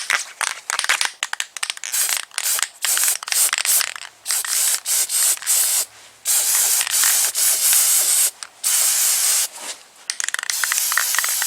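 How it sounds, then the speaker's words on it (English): Guide coat misted from a spray can over body filler on a car panel during dent repair, a series of short close hissing bursts with brief pauses and a few rattling clicks between. "we're gonna spray some guide coat on it"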